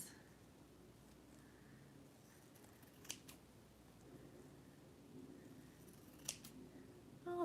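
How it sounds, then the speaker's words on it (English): Scissors snip through tulle fabric along a semicircle for a ballet arm ruffle, giving two quick, soft cuts over a quiet room hush. "now we're gonna cut along this semicircle"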